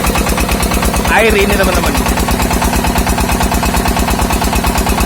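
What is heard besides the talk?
Niagara water pump engine running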